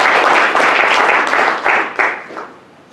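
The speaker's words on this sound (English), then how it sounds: "So can we give a round of applause to Myra?" Applause from an audience at a bar association legal education session, a dense burst of clapping that swells and then tapers off over a few seconds, with no talking.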